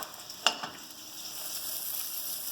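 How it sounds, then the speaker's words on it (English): Vegetables fry in oil in a pan with a continuous soft, bright sizzle, broken by one sharp crackle and a brief stir near the start. "they're starting to sound like they're frying too much, so I turn it down"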